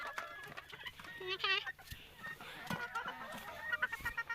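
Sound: chickens clucking

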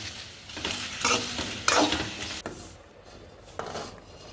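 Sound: sautéing vegetables in a pan

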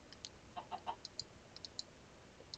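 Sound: chicken clucking in a video game

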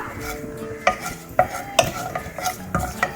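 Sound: stirring fennel and crushed pepper into chicken liver fry

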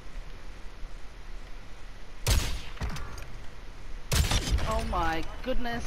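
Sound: sniper gunfire in Call of Duty Warzone video game

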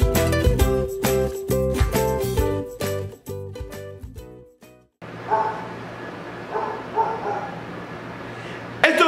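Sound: dogs barking

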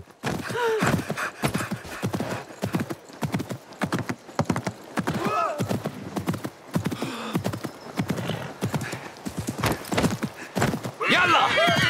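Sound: horse riders approaching, video game Assassin's Creed Mirage

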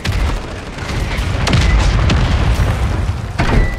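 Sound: bomb explosion in video game Call of Duty Warzone

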